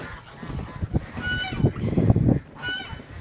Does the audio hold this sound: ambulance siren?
no